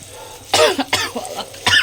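A woman coughing several times at home in the kitchen, sharp close bursts spaced irregularly over a couple of seconds.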